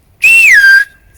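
A Silbo Gomero whistler from La Gomera whistles the word 'días': one sustained, loud, close whistle that holds a high pitch, glides down and then trails off, with no talk around it.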